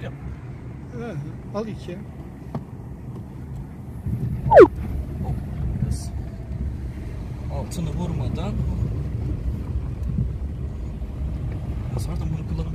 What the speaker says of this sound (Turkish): Arabayı dinleyelim.